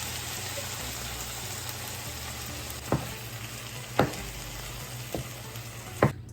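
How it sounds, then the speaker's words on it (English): Taco seasoning, Rotel and enchilada sauce simmer in a pan with a steady low bubbling hiss, broken by four sharp clicks or taps spaced about a second apart, no talking. "I'm just gonna let this simmer and do its thing for, I don't know, 15 minutes"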